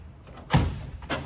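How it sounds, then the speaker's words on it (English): The ramp side door of a 1961 Chevrolet Corvair pickup shuts with a single solid metallic thunk up close, followed by a lighter latch click. "This ramp side door is interesting."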